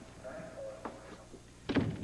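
A door shuts with one brief thud near the end of a short indoor scene, after a tonal creak and faint knocks, loud against a quiet room.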